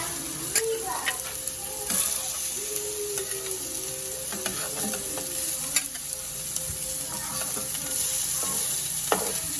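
Mutton burger patties fry in oil in a pan, giving a steady, close sizzle that holds throughout with small crackles and clinks over it.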